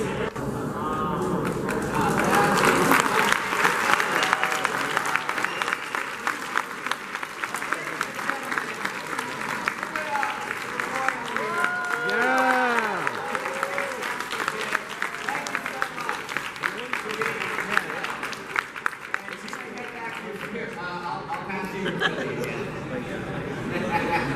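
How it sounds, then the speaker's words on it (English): Sustained applause and cheering from an audience at HarmonyCon, a fan convention, continue for the whole stretch under crowd chatter and a few raised voices, loud and close. "Ladies and gentlemen, round of applause once again for Roy."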